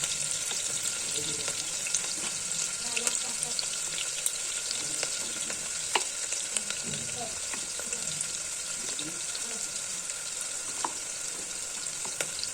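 Chopped onions frying in hot oil for mutton gravy, a dense, even crackling sizzle that stays loud and close throughout, with faint scattered pops and spatters.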